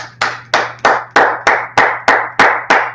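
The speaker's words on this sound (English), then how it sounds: "Let's clap it up." Rhythmic, evenly spaced claps, about nine sharp slaps in three seconds, loud and close with a low steady hum underneath.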